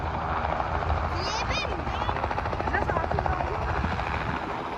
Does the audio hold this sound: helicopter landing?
yes